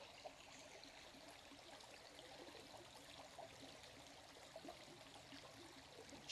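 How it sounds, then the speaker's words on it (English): A soft, steady trickle of running water from a small brook, continuous and fairly faint, with a few tiny high chirps and no talking. "Just a babbling brook in front of me."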